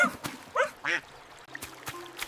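A cartoon duck in a pastel 3D animated garden quacks several times in short, bright, nasal bursts, close and clear over a quiet background.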